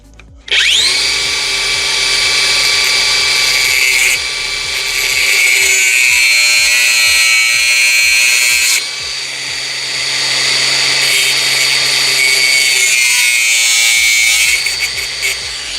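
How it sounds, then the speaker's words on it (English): An angle grinder cuts into the rear subframe of a Mini Cooper S Cabrio, a loud steady high-pitched whine that runs nearly continuously, its pitch shifting as the disc bites, with brief dips and rattles near the end. "So, angle grinder."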